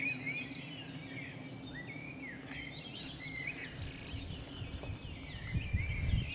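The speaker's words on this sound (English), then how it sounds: "But hear the birds chirping." Birds chirp and trill in the Boboli Gardens in Florence, Italy, with repeated high, bright calls layered over a soft outdoor hum and a faint low rumble.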